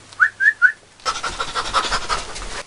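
A person whistles three short, bright notes in quick succession, close and clear. Rough, scratchy broadband noise follows with no voice.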